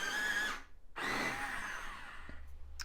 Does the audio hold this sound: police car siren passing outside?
no